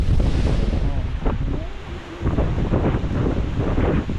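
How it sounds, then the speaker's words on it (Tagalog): Strong coastal wind buffets the microphone while big sea waves crash at the shore, a loud, continuous roar with gusts and surging surf, and a voice is briefly heard under the noise. "Grabe ang hangin pala dito. Doon sa Kasapsapan, hindi namin ramdam. Pero dito napakalakas pala ng alon pa oh."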